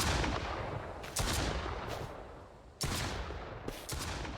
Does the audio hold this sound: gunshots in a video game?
yes